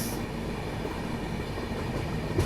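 CR Rajdhani Express train passing close by, a steady, loud rolling rumble of wheels and carriages that holds without a break from start to end, with no voices.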